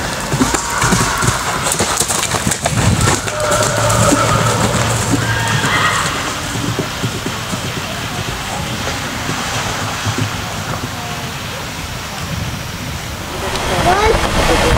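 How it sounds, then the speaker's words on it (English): Horse at a novice horse trials eventing competition, with whinnies and hoofbeats heard amid steady outdoor noise and some background commentary, fairly close and continuous. "There's a white horse coming up."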